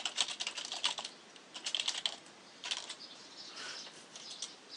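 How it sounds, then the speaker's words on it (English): Fingers type on a computer keyboard in quick, uneven bursts of soft clicks and clacks, pausing briefly between runs, close by and fairly quiet with no talking. "you just click the pencil, and you start typing in"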